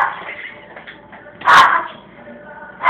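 A dog gives a short, loud yelp or bark that rises sharply midway through and is cut off by a second burst at the end, with a Spanish-speaking voice heard underneath.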